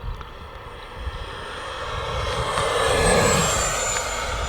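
An E-flite F-16 Falcon 80mm EDF radio-control jet passes at full throttle, a steady whooshing ducted-fan roar that builds gradually toward a peak near the middle and then holds loud, with no talking.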